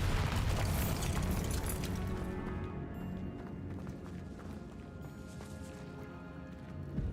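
A Bombarda spell explosion in the video game Hogwarts Legacy bursts loudly at the start and then rumbles and fades away over several seconds.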